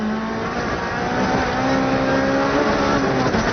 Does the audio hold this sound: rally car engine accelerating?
yes